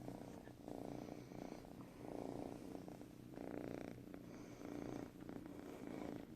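A feral kitten purrs up close in steady, rhythmic pulses, each breath cycle rising and falling clearly over about six seconds, with no talking.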